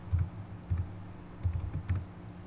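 Typing into a browser's address bar on a computer keyboard, a few soft, muffled key taps in small clusters, close but faint over a low hum.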